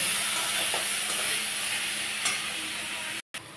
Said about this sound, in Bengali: দিয়ে আমি এটাকে ভালো করে কষাবো যতক্ষণ না তেল ছেড়ে ছেড়ে আসছে।